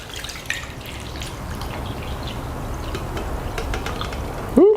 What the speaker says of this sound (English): Now this is the spout for the Trangia. Let's see how it looks pouring.